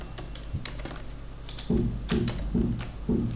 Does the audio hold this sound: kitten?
no